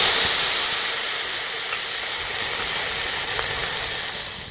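Water splashed onto a hot, oil-brushed pan for rice pitha gives off a loud, steady steam hiss that holds without a break and fades slightly at the end.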